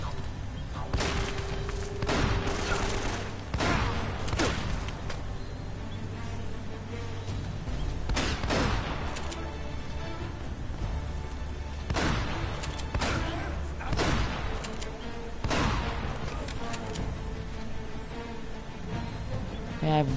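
Gunfire in Uncharted: Drake's Fortune arrives as scattered sharp shots and short bursts over steady game ambience, with a player talking at times between them.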